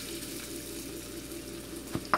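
Steady broadband sizzle of potatoes frying in hot oil, continuous and close, with a couple of brief clinks near the end.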